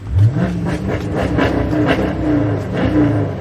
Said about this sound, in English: Let me give y'all a quick little rev real quick. I gotta rev the car.